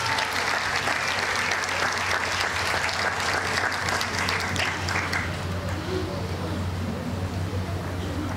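Sustained applause from an audience at an International Women's Day awards ceremony, a dense, steady wash of clapping that carries on for several seconds before easing slightly, with a low hum beneath.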